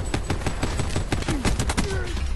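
Sustained rapid automatic LMG fire from Black Ops 4 multiplayer, a dense, loud stream of closely spaced shots with other in-game effects mixed in.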